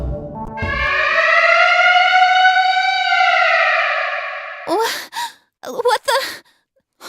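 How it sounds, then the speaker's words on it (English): A wailing siren in the video game Monster Kingdom Jewel Summoner rises and holds a long, steady tone for about four seconds, then cuts off into short voiced gasps and sighs. "Sirens?"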